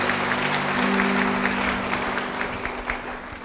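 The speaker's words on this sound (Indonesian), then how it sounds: "Beri tepuk tangan bagi dia." Church congregation applauding warmly and continuously, a dense wash of clapping hands over a steady sustained keyboard or organ tone, gradually easing toward the end.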